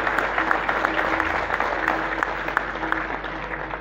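Sustained applause from an audience at an end-of-year cattle auction gala held by a ranch and breeding establishment, a dense, steady clatter of many hands that fills the whole stretch without talk over it.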